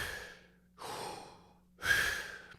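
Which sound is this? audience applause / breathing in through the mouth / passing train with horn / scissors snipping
breathing in through the mouth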